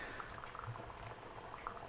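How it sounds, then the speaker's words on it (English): Venison chili with imperial stout bubbles and boils in a pot, a soft, quiet stream of popping bubbles with a few louder plops, no talking. "Oh, look at those bubbles go. Oh, we're gonna boil away in a bit."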